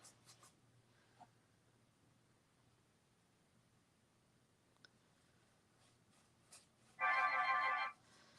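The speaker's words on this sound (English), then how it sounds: "that is my mother's phone. She doesn't know how to turn on silent." Mobile phone ringing indoors during a mixed media art session, a short loud electronic ringtone burst near the end after quiet scratching and faint clicks.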